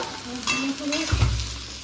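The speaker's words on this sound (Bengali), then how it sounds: "নাড়িয়ে কষতে দেবো।" Spices, turmeric, chillies and boiled potatoes being stirred and fried in a pan, with a short burst of sizzling and scraping spatula strokes up close, ending in a dull thud.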